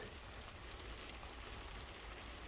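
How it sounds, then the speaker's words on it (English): Heavy rain pours down outdoors in a steady, even hiss that stays faint and constant throughout, with no voices. "unfortunately it's chucking down the rain"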